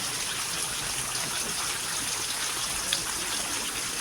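A heavy downpour falls over a dairy farm's fields as a dense, unbroken roar of rain holds at a steady level throughout. No voices.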